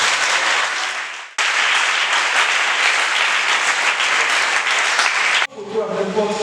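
A church congregation bursting into loud, dense applause, a sustained roar of many hands that cuts off sharply twice, with voices rising at the end.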